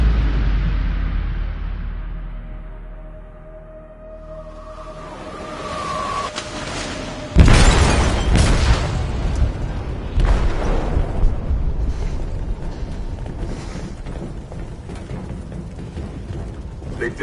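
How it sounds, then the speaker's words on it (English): An explosive detonates in a ship's hold in a video game: a quiet rumbling buildup and rising tone give way to a sudden loud blast, followed by crashing debris, a second heavy boom and lingering rumble. "They detonated an explosive in the hold."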